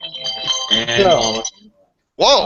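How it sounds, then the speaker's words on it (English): A phone rings during a sports-picks talk show, a short bright electronic ring bursting in after a person's exclamation, loud and close. "that's the phone"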